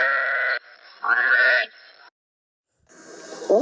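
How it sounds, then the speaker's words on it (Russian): A sheep bleats loudly and close, two wavering calls one after the other, followed by a pause and a different animal call. "Овца блеет."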